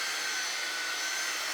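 A hair dryer blowing steadily at close range while drying a painted shirt, a constant loud whooshing hum with no pauses or talk.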